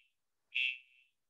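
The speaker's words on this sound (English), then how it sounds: "Fire alarm." A single short, shrill electronic fire alarm beep sounds alone, clear and fairly loud, then fades out quickly.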